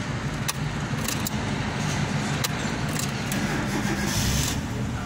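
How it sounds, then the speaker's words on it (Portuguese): A 1999 Fiat Palio 1.6 16v engine cranks with the key and turns over, settling into a steady low rumble, with a light metallic jingle of keys near the start. "Você bate na chave e o carro pega"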